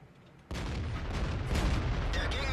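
Tank shell striking a Leopard PTA's turret in World of Tanks, a sudden loud metallic impact bursting out after a quiet start and followed by sustained rumbling battle noise.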